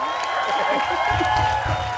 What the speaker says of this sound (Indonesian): Tepuk tangan sekali lagi dong untuk Haja Lulu